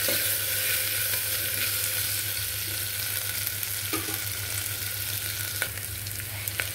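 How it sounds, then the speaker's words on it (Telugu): Ginger garlic paste fries in hot oil for coconut rice, making a continuous close sizzle with a faint steady low hum beneath and occasional light stirring clicks, without any speech. "ఈ అల్లం వెల్లుల్లి పేస్ట్ ఫ్రై అయ్యే వరకు ఉంచుకుందామండి."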